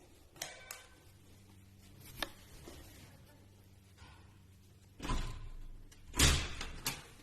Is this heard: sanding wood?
no